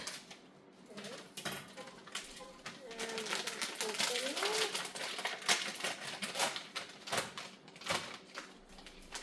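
A knife chops ingredients on a board while preparing mac 'n' cheese arrabiata, making rapid, irregular light taps and clicks heard close up under ongoing talk.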